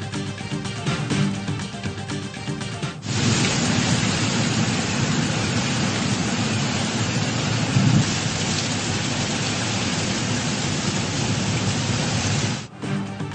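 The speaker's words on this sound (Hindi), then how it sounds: "पेशावर के मुख्तलिफ इलाकों में मूसलाधार बारिश, गर्मी का जोर टूट गया।" Heavy downpour with thunder in Peshawar, a dense, loud roar of rain on surfaces that swells in and holds steady, with a deep rumble of thunder rolling through midway and no talking.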